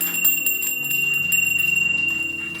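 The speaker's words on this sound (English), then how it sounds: "we have the magnificent Japanese bell." A Japanese bell hanging in a home kitchen rings with a soft shimmering tone, its low hum and high overtones lingering and slowly fading, with no voices over it.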